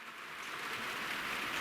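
Steady rain falls outside as a soft, even hiss that swells slightly over its brief length, with no voices.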